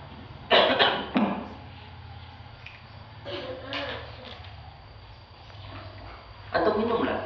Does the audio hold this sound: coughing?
yes